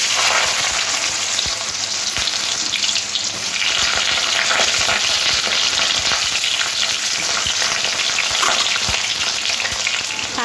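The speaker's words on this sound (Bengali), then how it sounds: "এবার আলুগুলো ওই তেলের মধ্যে ভেজে নেবো।" Long-cut potato strips frying in oil in a wok, a loud dense continuous sizzle with occasional stirring scrapes, close up and steady throughout, no voices.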